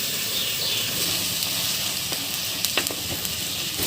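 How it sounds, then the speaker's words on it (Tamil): Onion and garlic sauté in a clay pot for fish thokku, giving a steady, close, full sizzle with a few faint scrapes and taps near the end. "வெங்காயம் பூண்டு நல்லா வந்து வதங்கிடுச்சு"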